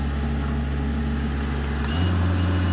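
An HR21D RC car motor runs at full speed on 3.4 volts, giving a steady loud whine and hum whose pitch shifts slightly near the end.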